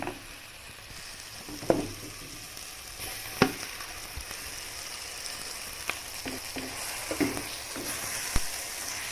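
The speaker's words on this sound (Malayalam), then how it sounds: "വേവിച്ച് വെച്ചിരിക്കുന്ന ലിവർ നമുക്കിതിലേക്ക് ചേർത്ത് കൊടുക്കാം" Cooked liver frying in a pan for liver fry, with a steady sizzle and a few sharp clinks and scrapes from stirring spaced through the clip, close and moderately loud, no talk.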